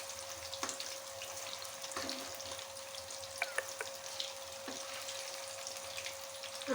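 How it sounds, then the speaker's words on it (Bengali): Onion and cauliflower pakora frying in hot oil, a steady close sizzle and hiss with scattered small crackles throughout and no talking. "এখন এই পেঁয়াজটাও ভালো করে ভেজে নেব।"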